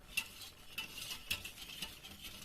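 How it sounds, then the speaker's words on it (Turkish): A wire whisk stirs a biscuit cake mixture in a pot, giving soft scraping strokes about every half second, quiet and close, with no talking. "Karıştır bakalım telle güzelce"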